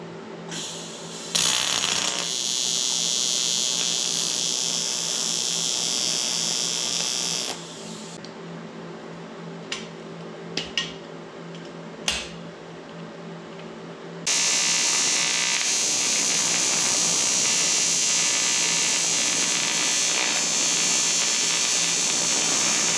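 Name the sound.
welding a tachometer mount on a 1974 Dodge Dart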